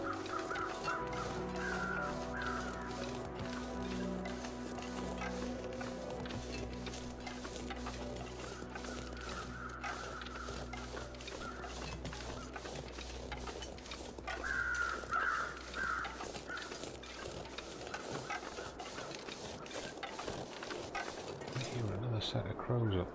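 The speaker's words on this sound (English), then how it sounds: "Set of crows up there" Crows caw from somewhere overhead, repeated calls scattered through a steady outdoor background with some human voice and footsteps mixed in.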